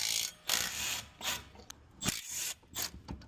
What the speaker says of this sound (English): we're going to go ahead and remove the caliper. There's two 14 millimeter bolts.